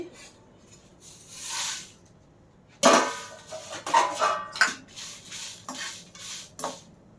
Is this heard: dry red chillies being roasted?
yes